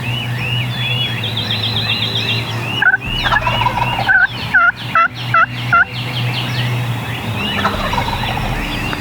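A wild turkey tom gobbles in a rapid burst, then again in several quick throaty rattles, fairly close, with softer bird calls and a low hum behind.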